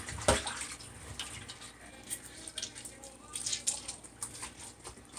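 Raw chicken is washed by hand in water with vinegar, giving soft sloshing, splashing and dripping at close range with a few sharper splashes, fairly quiet overall.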